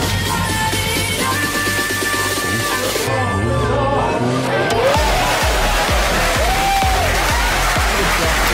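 Pool hall audience erupts in cheering and whoops after Efren Reyes sinks the 9 ball in a match against a German player, a loud, sustained crowd roar with scattered voices.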